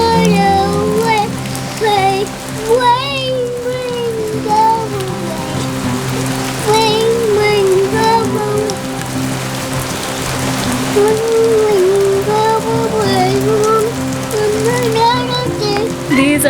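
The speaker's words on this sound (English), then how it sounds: "These are massive raindrops." Heavy rain with large drops pours steadily onto a garden, a dense continuous patter throughout, with faint birdsong-like tones and background voices mixed underneath.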